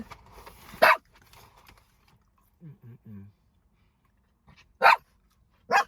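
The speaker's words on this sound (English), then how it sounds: "Now that is a sharp bark." A few sharp, loud dog barks spaced apart, with a quieter low woofing sound in between and near silence around them.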